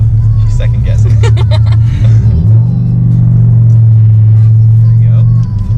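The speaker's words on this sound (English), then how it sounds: "I didn't realize how loud your car was." A loud Subaru STI engine rumbles and revs up, deep and close, while people chatter over it at first before the engine roar takes over.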